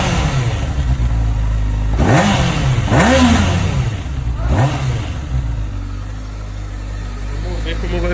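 A Honda Hornet motorcycle with its original stock exhaust idles loudly up close, then is revved three times in quick succession, each rev rising and falling before it settles back to a steady idle.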